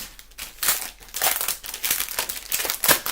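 Crinkly plastic packaging of a scrapbooking kit is opened by hand, loud close-up crumpling and crackling in irregular bursts throughout.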